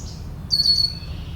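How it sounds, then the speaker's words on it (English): Yellow warbler singing outdoors, a brief bright high-pitched phrase of quick sweet notes, fairly distant, over a low background rumble. "Yellow warbler right away."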